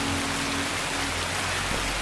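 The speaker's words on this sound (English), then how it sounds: "I hate this rain." Rain falls in Escape from Tarkov, an even, steady wash of rainfall on surfaces that holds evenly for the whole stretch with no talk.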